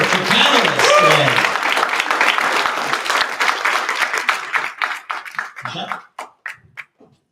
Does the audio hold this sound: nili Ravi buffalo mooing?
no